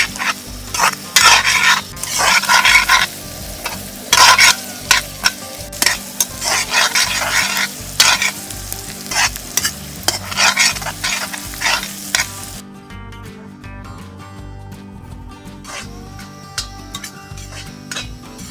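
Ginger garlic paste frying with onions for an outdoor mutton curry, stirred vigorously in a pan: loud rhythmic scraping and clattering over steady sizzle, then the stirring stops and a quieter sizzle carries on alone.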